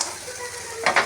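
Crab legs frying in a pan, producing a continuous bright sizzle that ends in two quick scrapes or knocks of a utensil against the pan, heard close by.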